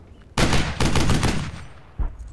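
Loud bursts of gunfire in the World War II shooter Brothers in Arms: Hell's Highway: a sharp onset into a rapid automatic volley lasting about a second, then a brief pause and a final single shot, close and without speech.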